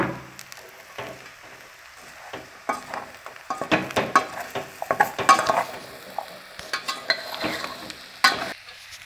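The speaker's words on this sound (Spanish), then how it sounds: "Ahora le ponemos la cebolla y le seguimos meneando otra vez." Onion and chili are stirred in a frying pan, giving a soft sizzle under irregular bursts of close spoon scraping and clinking against the pan.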